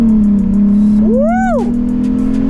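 Volkswagen Corrado VR6 engine idles steadily up close, then a single sharp rev climbs and falls before the car pulls away.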